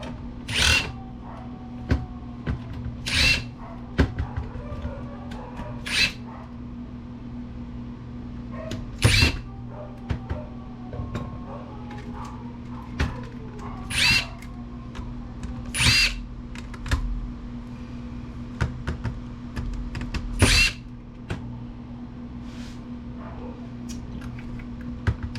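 Power screwdriver backing screws out of a Dell Studio laptop during scrapping, a series of short high whirring bursts spaced a few seconds apart over a steady low electrical hum, close and fairly loud, with no talking.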